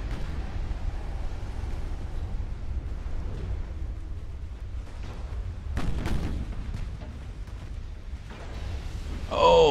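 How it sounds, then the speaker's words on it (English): Ammunition detonation on a battleship in the naval combat game Ultimate Admiral: Dreadnoughts, a deep rumbling boom erupting midway through low continuous battle noise, with another burst starting at the end. "Another ammo detonation."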